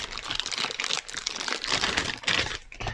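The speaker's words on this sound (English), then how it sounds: "we're going to grab out our Vermling Raider ability cards here" Gloomhaven: Jaws of the Lion enemy ability cards for the Vermling Raider being pulled from a box, a dense, continuous rustle of card stock and packaging with crisp crinkles and small clicks, close and fairly loud, no talking.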